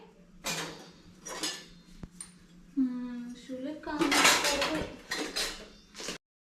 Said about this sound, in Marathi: आता आहे ना भांडी लावू लागतोय